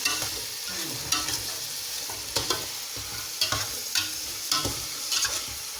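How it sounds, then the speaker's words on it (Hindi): Potatoes, carrots and peas fry in a pot for vegetable pulao under a constant sizzling hiss, punctuated roughly once a second by spatula scrapes in a steady stirring rhythm, close and without voices. "पहले ये आलू मैं डालूँगी, फिर ये गाजर और मटर, इनको थोड़ा मैं पका लूँगी"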